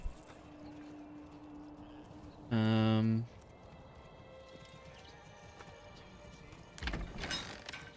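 Horse hooves clip-clop in a farming and trading video game, heard as a short, loud burst of tonal game sound effect, with someone talking over steady background music.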